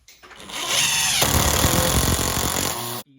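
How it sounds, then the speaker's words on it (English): A power drill drives a screw into clamped cabinets, a loud whirring burst of about three seconds whose pitch drops and grinds as the screw seats, then stops abruptly. "we sink our screw."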